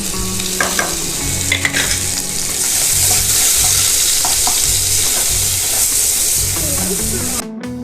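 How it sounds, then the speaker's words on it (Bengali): Chopped onions hiss and crackle loudly in hot white oil in a pan for chowmein, a dense continuous sizzle broken by occasional stirring knocks, with no one talking. "পেঁয়াজটা ভাজা ভাজা করে নেব।"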